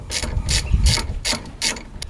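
A ratchet turns a bolt on the brakes of a MK1 Ford Focus ST170, giving loud close clicking pawl bursts in a steady rhythm of about five strokes over two seconds, with no talking.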